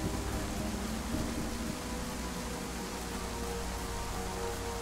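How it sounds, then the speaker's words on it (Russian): Steady, heavy rain pours down in the survival video game DayZ, a dense continuous hiss that fills the whole stretch at an even level with no other sounds standing out. "Дождь часто стал идти."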